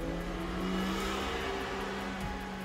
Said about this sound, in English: besides that stupid truck that just went by.